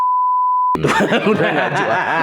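A steady pure-tone censor bleep runs alone for under a second, then cuts off into lively chatter and light laughter from several people.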